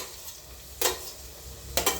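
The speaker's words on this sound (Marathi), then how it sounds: "कांदा जास्त फ्राय करायचं नाही आहे" Sliced onions frying in a pan for khichdi, a faint steady sizzle broken by two brief scraping stirs, with no talk.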